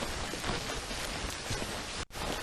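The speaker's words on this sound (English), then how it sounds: "11:30 and it's got heavy rain. It's gone into heavy rain." Heavy rain falling at night, a dense steady roar of drops hitting surfaces, loud and close, continuous apart from one brief dropout near the end.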